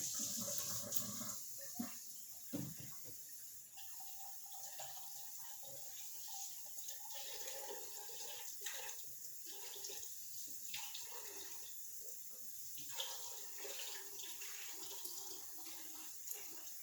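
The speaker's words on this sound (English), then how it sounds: "I put them in a sieve like this, a strainer, and I just keep rinsing them until it comes out clear" Tap water runs softly over grits in a sieve during rinsing, a faint uneven splashing and trickling in a quiet kitchen, with no one speaking.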